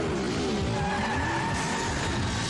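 A race car engine roars continuously with a drawn-out tire skid, loud and close throughout, with a steady engine drone and no voices over it.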